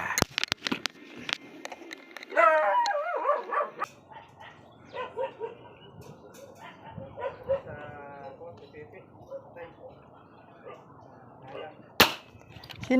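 A pet dog barks several times, with some harmonic yelps near the start, under ongoing talk and other household sounds in a Filipino home.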